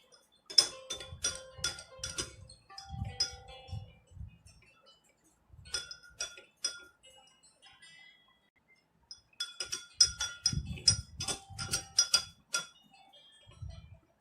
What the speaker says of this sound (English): Now mix it well.